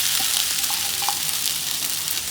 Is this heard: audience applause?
no